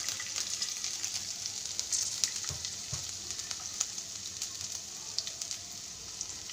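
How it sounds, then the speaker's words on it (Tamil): Mustard seeds crackle and sizzle in hot oil while tempering for a Navratri prasad dish, a steady close frying hiss with scattered sharp pops throughout. "கடுகு நல்லா பொரிஞ்சிடுச்சு"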